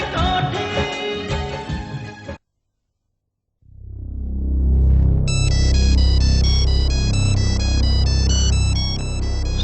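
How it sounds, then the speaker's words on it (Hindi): An electronic ringtone plays a bright repeating melody, stops briefly, then resumes louder over a deep throbbing undertone. "समर का फोन"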